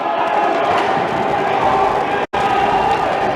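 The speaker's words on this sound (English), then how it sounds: "Nantucket crowd here makes some noise" A loud high school hockey crowd in Nantucket roars and cheers steadily, a dense wall of voices that cuts out for a split second, then resumes.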